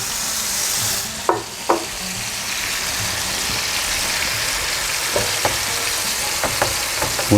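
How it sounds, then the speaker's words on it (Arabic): Chicken pieces frying in melted butter in a pan give a loud, steady sizzle with a few sharp clicks and pops scattered through, close by, no talk. "بس ذابت الزبدة شوي رح نزل الدجاج وقليه شوي، وهي حبة حبة."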